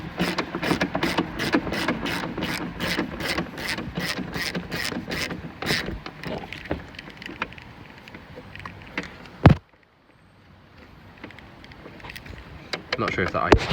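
Rapid ratchet clicking while a car tail light is unbolted, a dense burst of close metallic ticks for about six seconds, then sparse handling clatter, a sharp knock and quieter fiddling.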